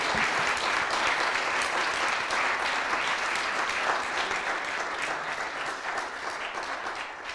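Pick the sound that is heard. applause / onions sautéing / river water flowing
applause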